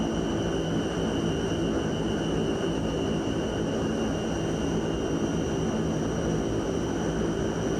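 Propeller airplane engine running at takeoff power near 1500 RPM, a loud steady drone with sustained tonal whine, constant and close, no talking.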